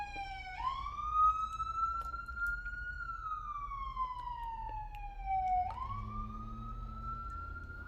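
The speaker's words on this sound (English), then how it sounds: "Sorry if you hear sirens, man." A police siren wails through a city neighborhood, a long rising and falling tone that sweeps twice, fairly loud though somewhat distant, over low traffic rumble.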